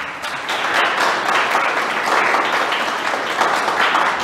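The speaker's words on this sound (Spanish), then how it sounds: "Dale un aplauso a Jesús" A congregation applauds Jesus during a Spanish-language church service, a dense, steady wash of clapping from many hands that fills the room for several seconds without a break.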